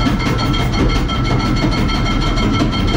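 A K-series engine in a jet boat cranks over on its starter, trying to catch, giving a loud, steady, rhythmic mechanical churning that runs throughout with no voices.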